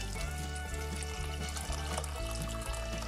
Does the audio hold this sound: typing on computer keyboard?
no